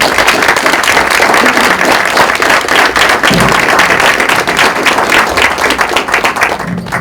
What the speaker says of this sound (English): I think if everyone give one more round of applause for our distinguished guests.